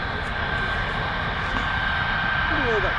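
Qatar Airways airliner arriving at Stansted Airport, a steady broad engine roar held throughout at moderate distance, with a faint voice in the background.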